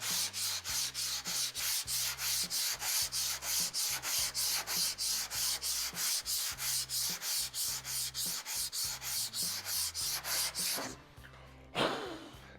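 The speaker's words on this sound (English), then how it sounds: "I just give it a little bit of a scrape. It's gonna show us where the lows are." A file is pushed back and forth across a dented metal body panel marked with marker to reveal low spots, steady rhythmic rasping strokes, close and loud, about two per second for ten seconds before stopping, with no talking.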